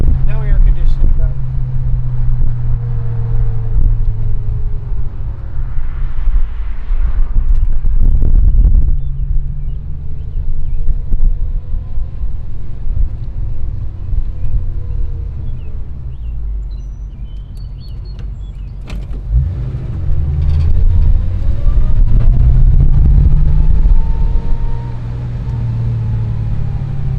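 A 1965 Ford Mustang convertible with dual exhaust drives around the block, its low engine rumble rising and falling with gear changes and throttle, beneath steady wind buffeting on the microphone.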